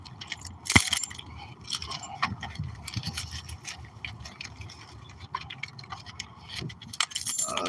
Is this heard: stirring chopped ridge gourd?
no